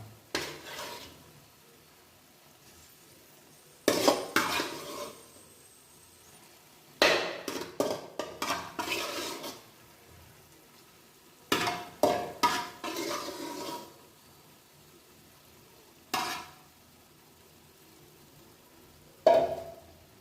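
A spoon stirs mushroom curry in a pan, giving bursts of scraping and clinking against the metal separated by quiet gaps, with a faint sizzle underneath and no talk.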